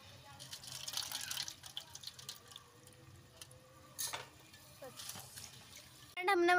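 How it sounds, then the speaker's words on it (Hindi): Water poured into a pot of rice in a home kitchen, bursts of splashing and running water with clattering, and a louder clank of a pot at the end. "ले हमने बना दिए चावल, पानी गेर दिया इसमें"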